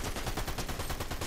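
A rapid burst of automatic gunfire in Fortnite, dense and steady, with a dozen or more quick shots packed into about a second, close and fairly loud, with no talk over it.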